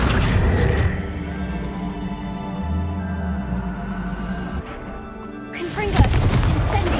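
Spell explosions from the video game Hogwarts Legacy, fire and blast spells going off as continuous booming bursts over a rumbling game soundscape, with a louder hit near the end.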